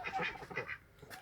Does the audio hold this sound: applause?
no